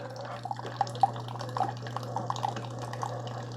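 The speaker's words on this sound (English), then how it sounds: "Press the K button, and then it starts brewing." A Keurig K-Slim single-serve coffee maker with MultiStream technology brews, giving a steady low hum with faint irregular drips and trickles of hot water running through.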